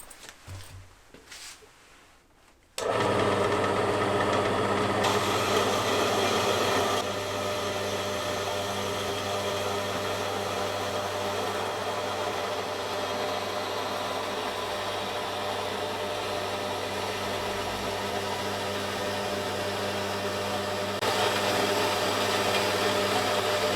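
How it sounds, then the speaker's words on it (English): A lathe turns and cuts a model engine cylinder sleeve for a Philip Duclos Odds n Ends engine, a steady loud machine whir with broadband cutting noise starting after a brief quiet lead-in and continuing evenly throughout. "I'll be machining this down and explaining why I've gone for this particular internal diameter"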